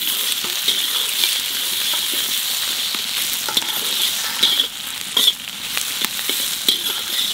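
Tomatoes sizzle in a frying pan for chilli chicken and egg fried rice, a steady bright hiss close up with occasional pops and a few spatula scrapes, no voice.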